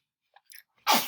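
A single sharp sneeze bursts out near the end in a classroom, loud and close, preceded by a few faint small sounds.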